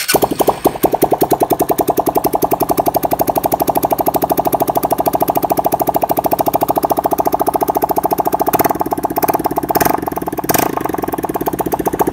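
A small motorcycle with its exhaust pipe removed idles close up with a loud, rapid, evenly spaced popping chatter, each firing pulse sharply distinct, with a few throttle blips near the end.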